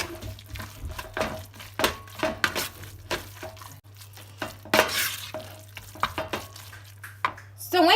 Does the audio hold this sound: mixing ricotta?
yes